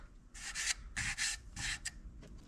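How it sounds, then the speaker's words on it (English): Repeated rubbing strokes of a buffing pad worked by hand over a small turned wood piece with Yorkshire grit, rasping in short bursts of roughly even rhythm, fairly quiet and close with no talking. "let's get the Yorkshire grit, a buffing pad, and buff off all the burn residue"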